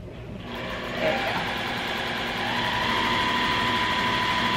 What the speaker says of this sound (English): I just flip it over and sew again. So you get a double sew on it.